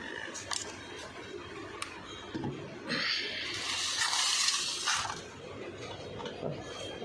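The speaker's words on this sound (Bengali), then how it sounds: "এরকম করে আমি প্রত্যেকটা গাছে আমি জল দিই" Water is poured onto potted plants, a rushing splash that swells for a couple of seconds mid-clip amid quieter handling noises and trickles close by.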